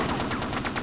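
M249 machine gun firing in Half-Life: Opposing Force, a rapid burst of close, loud shots in steady rhythm lasting under a second.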